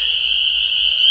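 Spring peeper frogs call loudly at night in a dense, continuous high-pitched chorus that sounds close and unbroken for the whole brief stretch.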